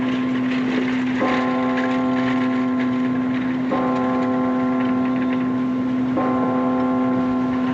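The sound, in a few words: church bell ringing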